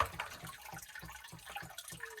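A whole house water filter cartridge is dunked into water, producing faint sloshing and gurgling with soft, regularly spaced splashes as it is pushed down repeatedly, close by and quiet.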